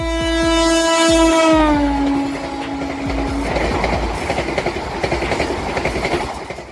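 Vande Bharat Express, a sixteen-coach Indian electric train, sounds a long, loud horn blast that slides lower as it passes close by, followed by steady rumbling and rhythmic clickety-clack of wheels over rail joints.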